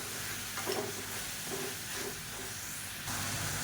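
Onions and tomatoes sautéing in a pan with salt for a vegetable side dish, a steady broad sizzle throughout with a few soft stirring scrapes, close and even, no voices.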